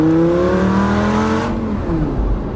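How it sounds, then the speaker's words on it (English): An exotic car rated around 520 horsepower revs hard at full throttle, the engine note climbing steadily in pitch for about a second and a half before easing into a lower rumble. "So let's floor it."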